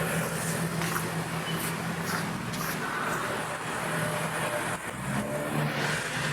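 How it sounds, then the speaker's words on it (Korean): A mining car's engine idles steadily in the background, a faint, even hum with some light clatter and no talk over it. "현재 시동이 켜져 있고요"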